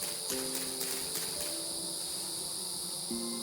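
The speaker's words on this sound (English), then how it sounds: "the sounds of these, like, crickets or whatever freaked me the hell out." Crickets chirp steadily in the Vintage Story survival game, a dense continuous insect trill held at even loudness across the whole stretch, with no voices.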